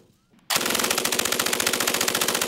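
A German MG-42 machine gun fires one long, extremely rapid burst of evenly spaced shots, loud and close, starting sharply after a brief quiet moment.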